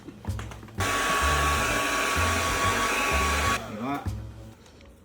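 A hair dryer blows steadily and loudly for about three seconds while bangs are being styled, then shuts off. Brief talk comes before and after it.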